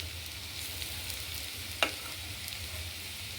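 Garlic fries in a pan for ginger pickle, a steady close sizzle with one sharp clink partway through.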